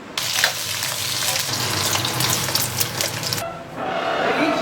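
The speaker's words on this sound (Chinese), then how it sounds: "咱现在炒个油炸鸡肉棍儿。" Deep-fried chicken sticks stir-fried in a home kitchen wok, a loud close sizzle with scraping stirs that cuts off abruptly near the end, leaving quiet background.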